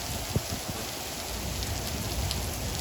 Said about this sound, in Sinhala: ඉතින් හයියම වැස්සක් වහින්න ගත්තා